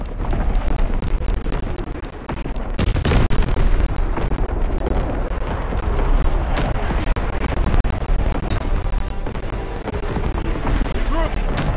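Heavy artillery shells detonate in a Call of Duty WW2 battle, a loud, continuous barrage of booming blasts and rumbling impacts that overlap with almost no pause.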